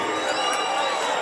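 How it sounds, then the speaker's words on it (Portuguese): Dense, steady crowd cheering and applause fill a short stretch at a public event with officials' speeches and a Trio Parada Dura show in Pingo D'água, Minas Gerais, loud and continuous throughout. "Mais uma salva de palmas pra ela, que ela merece!"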